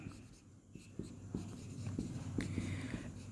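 Chalk or a marker taps and scratches across a board during a math lecture, a series of faint, close, irregular strokes and clicks against quiet room tone.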